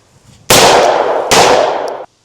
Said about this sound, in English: we're going to shoot it a few times and see